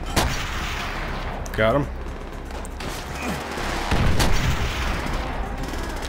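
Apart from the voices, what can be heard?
gunfire in video game Call of Duty World at War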